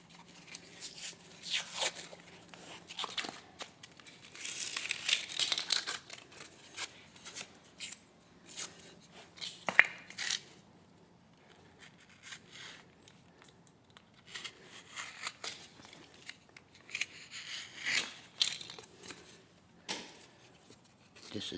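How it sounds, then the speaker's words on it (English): Gypsum is peeled off the backing paper of a drywall blowout patch, leaving only the front paper. Faint, scattered dry scraping and crumbling bursts come and go over a quiet room background. "you just peel the gypsum off and leave the front paper"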